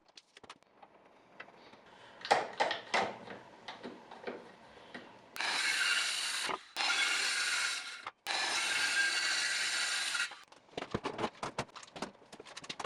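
Hand sawing through a 3/4 inch walnut board, first scattered scraping and knocking, then a run of long, steady rasping strokes, close and clear, ending in more handling noise.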